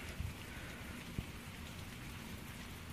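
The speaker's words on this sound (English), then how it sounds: "the OnePlus One seemed to be holding up really well in the rain" Steady rain patters on a OnePlus One phone outdoors, a dense continuous hiss of drops with a couple of brief louder taps, no voices.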